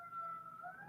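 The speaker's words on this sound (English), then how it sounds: "What's with all the sirens today?" Emergency vehicle sirens outside, a faint, steady wailing tone heard at a distance through a quiet room.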